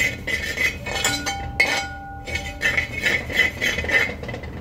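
A metal spoon stirs and scrapes ingredients dry-roasting in a pan for green chilli egg masala, with repeated close, bright clinks and rattles against the pan.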